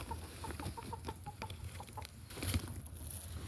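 Chickens walk in the snow outside their run, giving soft clucks with faint pecking and patter against a low background hum, and no voices are heard.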